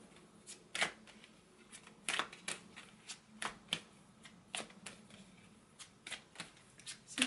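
Tarot cards shuffled by hand, a string of crisp irregular riffles and slaps at close range, with quiet pauses between bursts.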